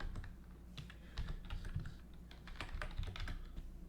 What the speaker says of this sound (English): So I'm going to go ahead and type in the bytes right now.